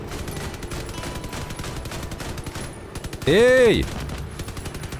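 Sustained machine gun fire from the Crossout vehicle-combat game, a dense crackling stream throughout, with a loud burst near the end and a voice calling out briefly over it.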